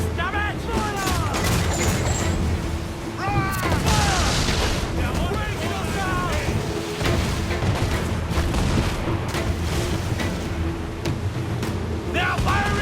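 Repeated naval cannon volleys booming from sailing ships in the pirate-era game Assassin's Creed IV Black Flag, loud heavy blasts rolling over continuous battle noise while crew voices shout throughout.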